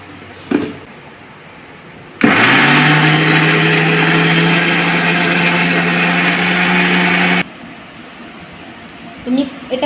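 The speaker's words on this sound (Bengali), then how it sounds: "এবার আমি এটাকে মিক্স করব মিক্সচারে" A kitchen mixer blends watermelon juice with mint leaves, giving a loud, steady motor whir that starts abruptly, runs for about five seconds and cuts off sharply, with brief handling sounds before and after.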